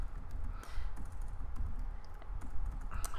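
Computer keyboard keys tapped in a steady run of close, crisp clicks while a file name is typed during a craft room session, with no talk.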